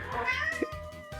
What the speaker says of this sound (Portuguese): Peraí, o gato subiu aqui também.